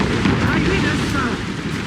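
Naval cannon fire from a ship battle in Assassin's Creed Rogue booms as a dense, loud, rumbling blast that fills the moment, with shouted voices barely separable beneath it.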